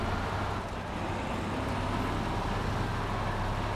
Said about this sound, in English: I'll try and be quiet on some of the parts just so you can hear this truck